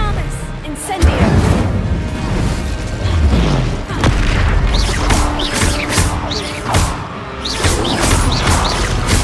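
The Incendio fire spell cast in Hogwarts Legacy bursts in loud, heavy whooshing booms and crashes, repeating through a busy stretch of combat, with a voice calling out between blasts.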